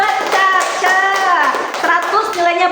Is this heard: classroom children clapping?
yes